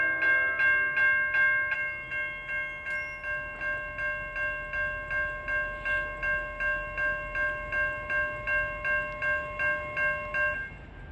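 NJ Transit train 1116 from Suffern to Hoboken, drawn by a diesel locomotive, sounds a long sustained horn, then rumbles past close by with a steady repeating clatter of wheels over rail joints.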